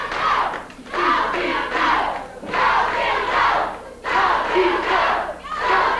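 Wrestling crowd at a Memphis arena roaring and shouting for a wrestler, loud, surging waves of yelling that rise and dip every second or two, with a few thuds mixed in.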